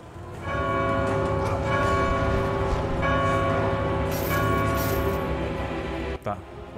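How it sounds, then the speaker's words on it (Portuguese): Bells toll in the God of War II video game, sustained resonant ringing over a constant tonal music bed that fills the clip, with two bells struck together and the sound cutting off sharply near the end. "A gente vai usar os dois sinos ao mesmo tempo."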